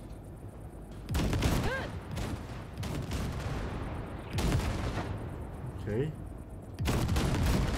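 Heavy gunfire blasts wrecks in Cyberpunk 2077, loud repeated bursts of shots and booms in several clusters, with a man's brief spoken reactions between them.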